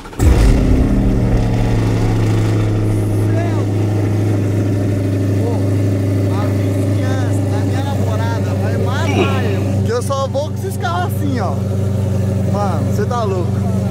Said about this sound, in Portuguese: Mano, se liga do jeito que esse carro liga, rapaziada.